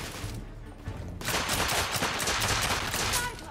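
Gunfire in the video game The Order 1886, a sustained volley of loud, rapid overlapping shots that swells into dense continuous firing after about a second, with no talking.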